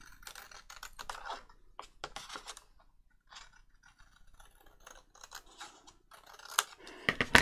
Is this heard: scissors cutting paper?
yes